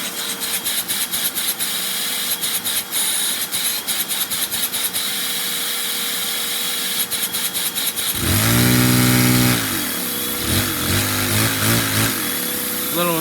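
A Lego single-cylinder vacuum engine runs with a fast, buzzy drone, then revs up sharply with rising and falling pitch sweeps near the end.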